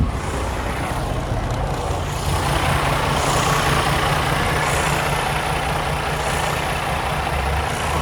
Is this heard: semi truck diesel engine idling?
yes